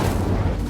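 A fire spell in the video game Hogwarts Legacy erupts as a single loud, dense whooshing boom that fills the whole short moment.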